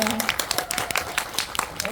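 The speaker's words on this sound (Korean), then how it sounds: "큰 박수 부탁드리겠습니다" Audience applause fills a film festival event hall, a dense spatter of claps with voices mixed in, steady and moderately loud throughout.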